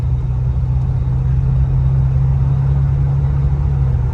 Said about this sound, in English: Let's go through the gears.